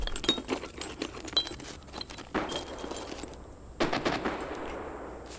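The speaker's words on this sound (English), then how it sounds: "Somebody's on an AGS." An automatic grenade launcher fires in a shooter video game as rapid bursts of heavy gunfire. Short volleys repeat over several seconds at moderate distance, with no speech.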